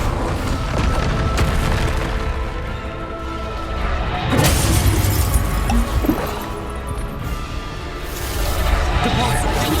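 A Bombarda blasting spell from Hogwarts Legacy bursts into repeated booming explosions with crashing, shattering debris, heavy low rumbles swelling several times over a busy combat soundscape.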